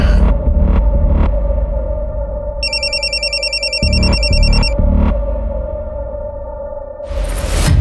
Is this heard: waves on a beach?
no